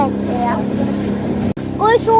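A motorboat returns across the water with a steady, close engine drone and a brief cutout partway, while people talk over it with animated voices.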